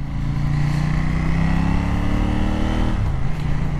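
A KTM Duke 790 motorcycle pulls away with a steady, loud engine drone and rising revs close by, the pitch shifting near the end as it changes gear, with no talking.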